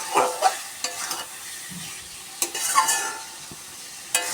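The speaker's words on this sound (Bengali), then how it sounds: "এবার লবণ দেবো, দিয়ে আর একটু কষিয়ে জল দিয়ে দেবো" Egg curry masala with potatoes sautéing in a pan, a low steady sizzle broken by several sharp scraping stirs of a spatula against the pan, close and clear, with no talking.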